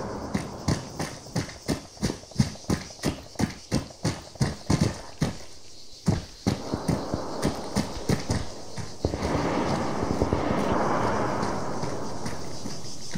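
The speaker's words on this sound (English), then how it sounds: "in a helicopter just waiting for it to take off." A helicopter in the video game ArmA spins up for takeoff, its rotor thumping in quick, even beats that speed up and then merge into a steady, loud whooshing roar.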